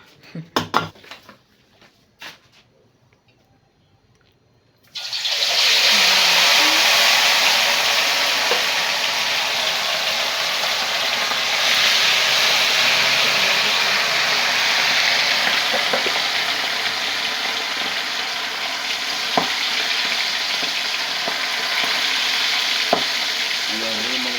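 Eel drops into hot oil in a wok and sets off a loud, steady sizzle that continues without a break. A few clinks of utensils come before it, with occasional clatter over the frying.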